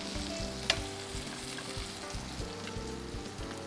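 Opakapaka fish fillets sizzle steadily in hot vegetable oil in a pan while browning, a soft continuous crackle with a brief sharp pop partway through.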